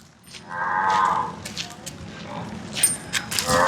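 A Murrah buffalo lets out a low, drawn-out moo, then quieter grunting follows amid background farm noise and faint bursts of hissing.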